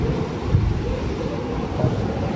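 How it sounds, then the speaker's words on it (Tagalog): Strong, steady snowstorm wind in Greenland roars and buffets continuously, a dense low rumble with no voices. "Napakalamig at napakasakit ng hangin. Ayan, no? Ang tunog niya."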